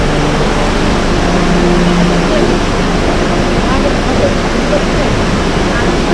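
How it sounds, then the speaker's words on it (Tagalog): A tall waterfall, the seventh in a series of falls, roars as a dense, steady rush of water, loud and close, with no letup throughout. "ito na yung pang 7 falls"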